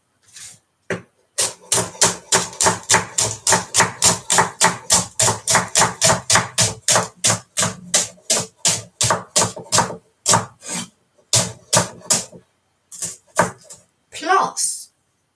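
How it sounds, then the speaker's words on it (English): A big kitchen knife chops food on a board in rapid, regular strokes, dozens of sharp close knocks in a steady rhythm that slows and breaks into scattered chops near the end, with a short burst of voice at the close. "It really pays to have a good, big knife. My chopping speed has increased since I got this."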